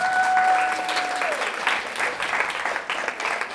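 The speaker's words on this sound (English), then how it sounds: "Give her a clap." Audience applause fills a keynote lecture hall, a dense steady wash of clapping from the crowd with a faint tone fading early on.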